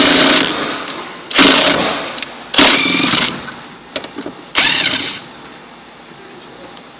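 A power tool backs a screw out of a vehicle seat in four sharp, loud whirring bursts, each about half a second to a second long, separated by quieter pauses.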